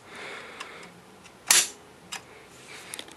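A single sharp rifle shot cracks nearby, short and loud against a quiet outdoor background, followed by a couple of faint mechanical clicks from the action.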